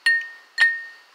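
Ice cubes dropped into a glass for an old fashioned cocktail: two bright, ringing clinks about half a second apart, each with a short tinkling decay and a faint third tap, close and clear.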